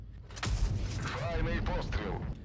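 A tank cannon fires at the armor of a Vz. 55 tank in a video game, a single loud boom near the half-second mark followed by a rumbling tail and faint voice-like tones mixed in.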